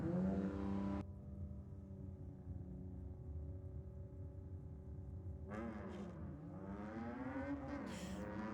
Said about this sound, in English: It's nice to see that aqua green XR6 Turbo back as well